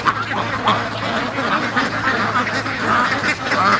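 A dense chorus of ducks quacks continuously in a pen holding several hundred free-range birds, loud and close with overlapping calls and a steady low hum beneath.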